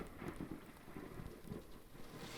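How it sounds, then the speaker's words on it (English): Rain patters steadily while a low, distant rumble of thunder rolls underneath, fairly quiet throughout. "And then he heard a roll of thunder"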